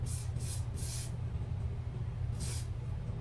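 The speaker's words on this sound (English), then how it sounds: "But like I said, I'm going to spritz it." A hair product spritzed onto a curly closure hairpiece during an install, three quick short sprays followed by a fourth after a pause, each a brief airy hiss over a low background hum.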